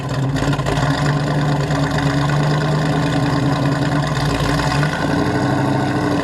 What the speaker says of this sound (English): When you're in the throttle, you can definitely hear the exhaust